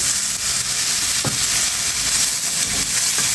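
Drumstick stems stir-fried in hot oil for a hilsa curry sizzle loudly and steadily, a bright continuous hiss with a few soft scrapes of stirring and no talk.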